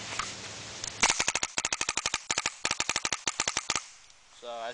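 An airsoft G3 replica rifle firing on full auto: rapid, crisp mechanical shots in several quick bursts separated by short pauses, close and loud, followed by a brief voice at the end.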